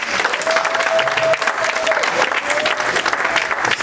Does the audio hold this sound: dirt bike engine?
no